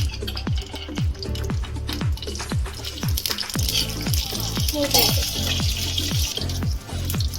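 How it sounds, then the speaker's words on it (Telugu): Dried red chilies and curry leaves sizzle in hot oil for a tempering, with a steady run of close, sharp crackles and pops over a soft frying hiss. "ఎండుమిర్చి, కరివేపాకు వేసుకోవాలి"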